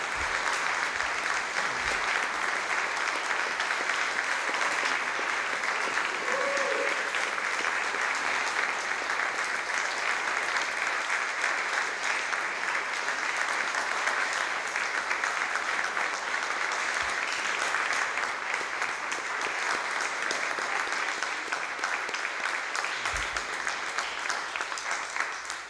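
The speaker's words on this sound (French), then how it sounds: "Je pense qu'on va tous les applaudir." A crowd gives long, steady applause for the artists at the closing of a symposium. The dense clapping holds at an even level for a long stretch, with a few scattered thumps.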